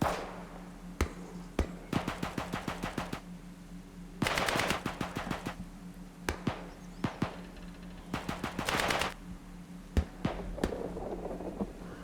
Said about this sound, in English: Where's the shooting coming from?